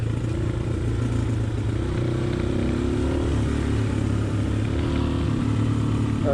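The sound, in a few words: motorcycle riding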